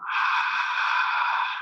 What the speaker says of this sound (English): Then on the exhale, we're gonna make an H sound,